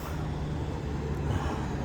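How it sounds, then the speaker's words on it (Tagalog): A road vehicle passing along a street in Abu Dhabi, a steady low engine and tyre rumble heard close by with no talk over it. "Ay, nadaan pang sasakyan."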